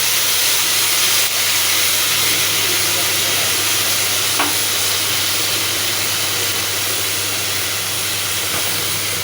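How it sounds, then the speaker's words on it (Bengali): Spices being stirred and fried for a beef kidney curry, with ginger and cumin paste and a splash of water, making a steady, continuous sizzle and hiss throughout, close and fairly loud, with a faint steady hum underneath. "তো এর মধ্যে সবগুলো মশলা দিয়ে ভালো করে নাড়াচাড়া করে কষিয়ে নেব।"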